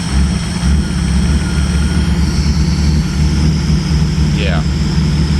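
A 1993 Mercedes 600SEC engine with a straight pipe runs rough at idle after losing vacuum, giving a loud, steady exhaust rumble with uneven low pulsing that continues throughout. A brief high squeak cuts in near the end.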